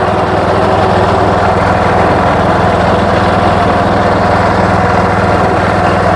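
A John Deere 210 garden tractor's engine drones steadily while driving, a loud, close, even mechanical hum with a fast regular pulse and no change in pace.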